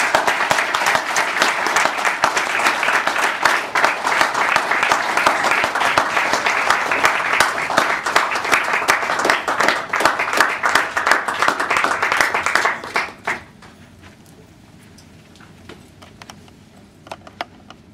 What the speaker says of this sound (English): Club, please give them a big round of applause.